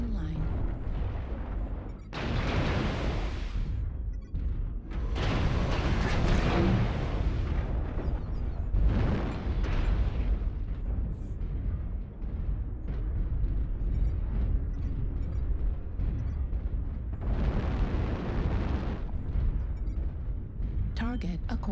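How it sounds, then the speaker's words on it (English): Artillery strike explosions in MechWarrior Online, several long, heavy rumbling blasts in irregular succession, loud and broadband, with voices heard between them. "Artillery strike online."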